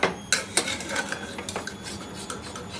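Cooked jackfruit pieces scraped and spooned from a pot into a bowl, with a few sharp metallic clinks of utensil on cookware followed by softer scraping and rubbing, close by and without talk.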